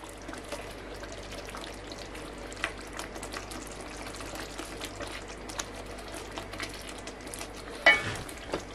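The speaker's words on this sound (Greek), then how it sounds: "ανακατεύουμε πάλι." Kitchen stirring: a utensil moving through a liquid mixture in a bowl, a continuous soft sloshing and scraping with small irregular clicks for several seconds and a louder knock near the end.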